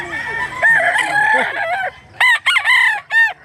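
A rooster crows loudly nearby, a long drawn-out call followed by a few shorter bursts of crowing and clucks.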